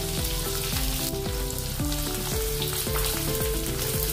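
Sliced carrots and chopped beans sizzle steadily in a hot pan for aloo pulao, a constant loud frying hiss with utensil clinks and scraping stirs, close up with no talking.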